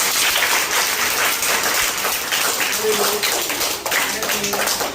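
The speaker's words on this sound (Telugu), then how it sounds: "అందరూ ఒకసారి చప్పట్లు పడుతున్నారు" Schoolchildren clap together for Srinivasa Rao at a school, a dense, steady patter of many hands that carries on without a break.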